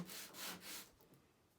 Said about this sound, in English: Just light sanding will do